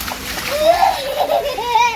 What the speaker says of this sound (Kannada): ರೋಡ್ ಫುಲ್ ನೀರಿತ್ತು ಗಾಯ್ಸ್ ನಾವು ನೀರಲ್ಲಿ ಆಡ್ತಾ ಇದ್ದೇವೆ ನೋಡಿ